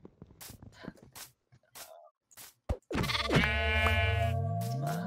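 A baby sheep bleats in Minecraft, one long, wavering, close bleat that follows a few scattered short clicks and game noises.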